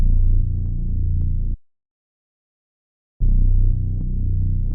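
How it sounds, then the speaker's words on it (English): A deep, heavy bass sample from a RUUTS multi-kit throbs in two dark, booming bursts, separated by about a second and a half of silence. "Next thing I'm adding is this bass carbon from RUUTS, and it sounds like this."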